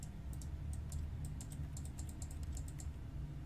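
Crisp keyboard clicks play out of The Stanley Parable game, irregular sharp taps in quick bunches, some doubled, over a low steady hum, fairly quiet with no talking.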